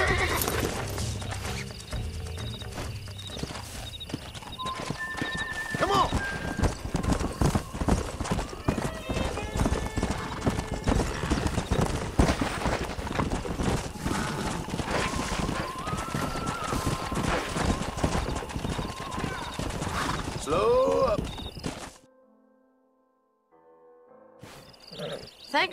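Wild horses gallop with steady clip-clop hoofbeats and occasional neighs in the Western video game Red Dead Redemption, loud and continuous under music and shouted voices, dropping to near silence near the end.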